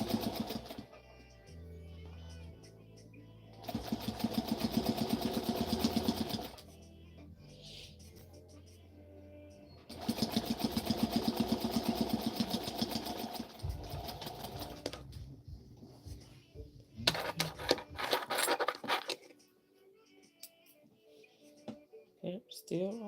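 A sewing machine stitches a dart on a Butterick M2401 garment, running in two sustained bursts of steady mechanical whirring with quieter handling and fabric noise in between.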